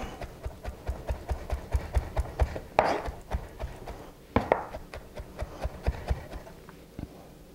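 Knife mincing garlic on a cutting board, with quick, steady rhythmic chops, close and clear, plus a couple of brief scraping sweeps across the board.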